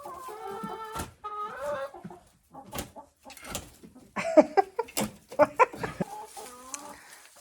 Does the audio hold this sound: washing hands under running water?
no